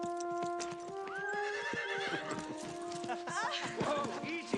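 A horse whinnies several times, with clip-clopping hooves and shuffling close by, while someone speaks over it.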